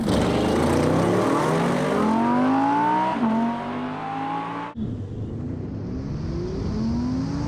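Loud engines of an Audi RS6, RS7 and rear-wheel-drive R8 roar and rise in pitch as the cars drag race, one shifting gear mid-run, then another engine climbs again close by.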